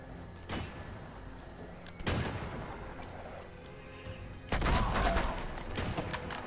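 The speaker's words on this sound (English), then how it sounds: "Who's shooting me?" Enemy gunfire in the video game Uncharted 2 rings out in three sharp bursts spaced a couple of seconds apart, fairly quiet overall, with a low ambient background between the shots.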